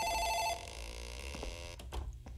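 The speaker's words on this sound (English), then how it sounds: "It's the phone in the office ringing." An office telephone rings in the horror video game Dark Fracture: a steady electronic ring, loud for the first half second, then fading under a low room hum with a couple of faint clicks and thumps.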